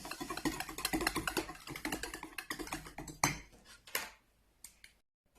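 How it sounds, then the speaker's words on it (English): Dried herbs being stirred into a pizza filling in a bowl, a busy run of close scraping and clinking utensil strokes that thin out into a few sharper knocks before falling quiet. "Add your dried herbs after you've adjusted the seasonings and mix them in."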